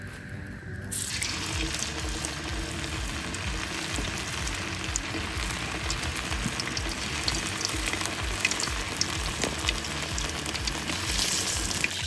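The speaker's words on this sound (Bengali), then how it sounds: "এবার ভেজে নিচ্ছি চিলি চিকেনের মুরগি।" Chicken pieces frying for chilli chicken at an outdoor picnic cook-up, giving a steady, loud, broadband sizzle and crackle of hot oil that runs unbroken for the whole stretch with no talking.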